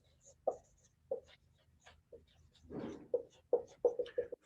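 Marker squeaks and taps across a classroom board as a chemistry formula is written, short separate strokes at a moderate distance in an otherwise quiet room.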